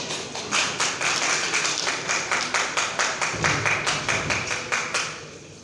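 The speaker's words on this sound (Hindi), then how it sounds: "और दोस्तों जोरदार तालियां तो बनती हैं।" An audience claps rhythmically throughout an award felicitation on stage, a steady run of sharp, closely spaced claps at fairly loud level with no talk over it.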